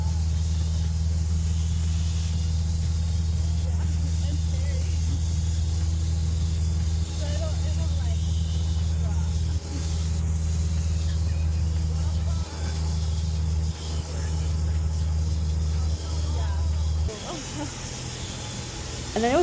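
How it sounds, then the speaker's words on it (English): A small airplane cabin drones steadily during a discovery flight, a loud constant engine hum with a faint hiss throughout, shifting near the end, while voices talk faintly underneath. "once we were up in the air and he found a clear area, he was telling me we were going to turn the plane"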